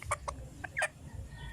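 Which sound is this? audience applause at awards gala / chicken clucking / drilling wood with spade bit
chicken clucking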